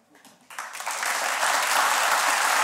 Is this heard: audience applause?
yes